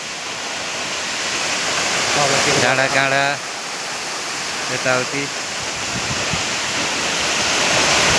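Mohini waterfall in Markhu roars steadily and loudly throughout, while someone speaks briefly over the rushing water in two short bursts.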